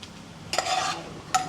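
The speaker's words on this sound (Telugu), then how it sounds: "డ్రై ఫ్రూట్స్ వేగిపోయాయి, తీసేద్దాం పక్కకి." Dry fruits are stirred in hot ghee in a pan, giving a soft sizzle with a couple of quick scraping stirs.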